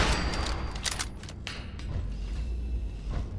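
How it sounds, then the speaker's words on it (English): Gunfire and an explosion in the video game Fallout 4, a dense burst of close, loud shots with sharp cracks and booms that thin into a lingering rumble. "When I shot that gun and it exploded"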